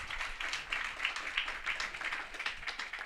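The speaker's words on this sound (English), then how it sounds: "we'll give Mary Ann a big round of applause" Quiet, uneven clapping comes from a small audience at a book launch about the families of Valentia, rising and falling in soft bursts for the whole stretch with no voices over it.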